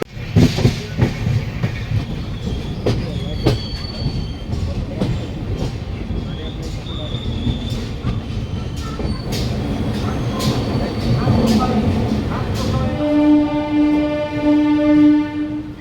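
Rupashi Bangla Express train rolling into Kharagpur Junction, a steady loud rumble with rhythmic clicks of wheels over rail joints, ending in a long sustained horn blast close by.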